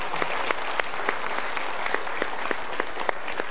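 A studio audience at a Mario Teguh Golden Ways talk show applauds in a brisk, crisp patter of many hands, with individual claps popping out, even and sustained throughout, with no one speaking.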